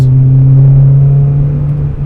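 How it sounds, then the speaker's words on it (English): A 2000 Honda Prelude engine with an aftermarket catback exhaust drones steadily at close range, a loud, even low hum from inside the car while cruising, with no talking. "I actually really like the sound of the engine. I think these Hondas sound pretty cool."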